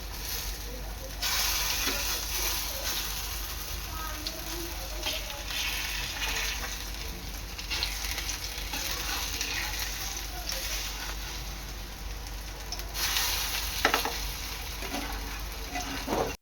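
Soybean kebabs fry in a pan with a steady, close sizzle that runs throughout, broken by occasional scrapes and bumps as they are flipped.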